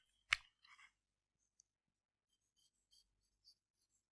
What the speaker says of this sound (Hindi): अब हम इस क्वेश्चन का आंसर लिखते हैं